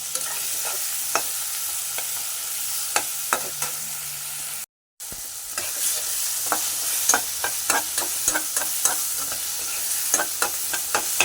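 Sarputi fish frying in mustard in a pan, a constant close sizzle with scattered spatter pops and occasional stirring clicks, cut by a brief dropout midway.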